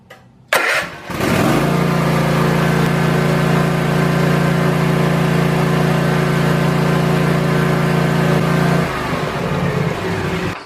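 Kawasaki small engine cranks briefly, catches and then runs at a steady loud idle-to-high drone for about eight seconds before winding down, with no talking over it.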